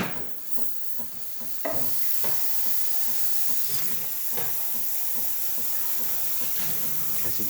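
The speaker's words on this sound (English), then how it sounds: "Then we're going to test the steam function." A Breville Barista Pro espresso machine's steam wand, just after a full service, hisses steadily with a broad, airy rush that starts softer, then jumps louder and holds constant with faint gurgling texture.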